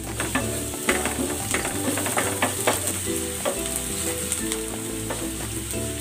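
Garlic and onion frying in a pan, a loud continuous sizzle with rapid crackles and utensil scraping and clicks, close by with no talking.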